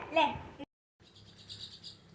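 Birdsong from pigeons in a home setting, a few bright chirps near the start, a brief silence, then faint softer calls with some background voices.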